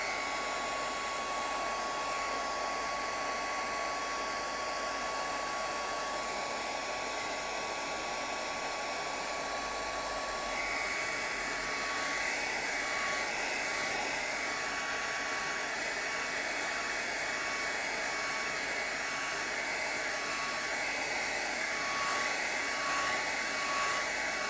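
A hair dryer blows steadily on a watercolour painting of bright coloured glass bottles, a continuous close whoosh with a faint whine that holds unbroken for the whole stretch, with no voices.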